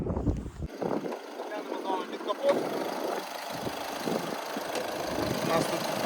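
A 1.6-litre diesel engine in a Skoda Octavia idles with a steady low rumble, buffeted by gusty wind noise against the microphone.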